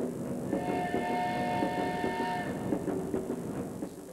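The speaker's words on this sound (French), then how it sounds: "Il y a un bruit de train, c'est peut-être un petit indice." A rumbling train rolls by with rhythmic clatter while a steady whistle sounds over it for a couple of seconds.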